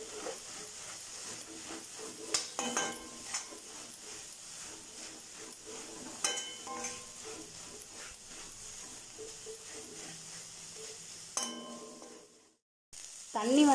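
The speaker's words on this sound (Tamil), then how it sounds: "லைட்டாக தெளித்து விட்டு தெளித்து விட்டு இந்த மாதிரி வதக்கி விட்டுக்கோங்க" Broad beans and egg stir-fry sizzling in a pan, a steady crackling hiss with occasional scrapes and clinks of a spoon stirring, fairly close and alone without talk, ending in a brief silence.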